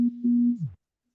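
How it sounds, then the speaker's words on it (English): A phone vibrating with a steady low buzz in one continuous burst of under a second, fairly loud and close, ending with a short falling tail before silence. "that's a phone buzzing"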